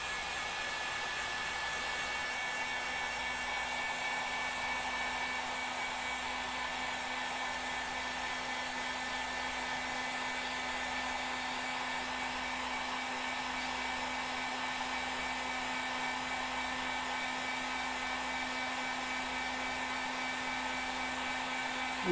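A hair dryer or heat gun blows a steady, loud, continuous whoosh with a constant motor hum, warming a glued-on part of a Mod Pod vape to loosen it, running unbroken with no talk.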